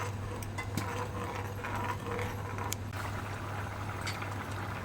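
A pot of drumstick curry boiling steadily on the stove, giving a continuous close bubbling and simmering with small popping ticks and no voices.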